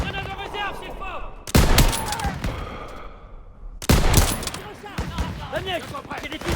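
Repeated bursts of rifle and machine-gun fire from a World War II shooter, Call of Duty WW2, with loud sharp volleys crackling in waves over a constant battlefield din, and soldiers shouting beneath the shooting.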